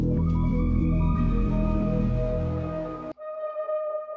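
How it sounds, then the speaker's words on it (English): A one-shot synth bend sound layered under other parts, a dense sustained tone with a low rumbling body that drops out abruptly near the end, leaving a thin lingering tail. "Then I just have this bend sound underneath,"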